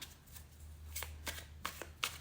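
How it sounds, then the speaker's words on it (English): Soft papery tarot card shuffling with several distinct riffling bursts over a low steady hum, fairly close and quiet. "shuffle your cards to see"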